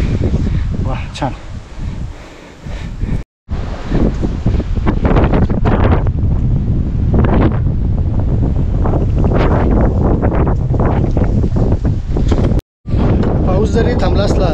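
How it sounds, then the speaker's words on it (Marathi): Strong wind buffets the microphone on a hill fort after rain, a loud continuous roaring rumble with gusts, briefly broken by two short gaps. "आता गडावर जास्त वेगाचा वारा आहे"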